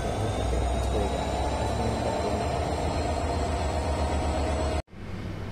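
Jahanabad Express train leaving Dhaka station, a continuous loud rumble of wheels and carriage noise that cuts off sharply near the end before a quieter hum resumes.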